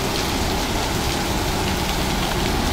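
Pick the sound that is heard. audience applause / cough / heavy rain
heavy rain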